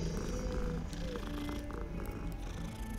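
A video game cat purrs in a soft, steady rumble that runs continuously under a faint layer of game sound.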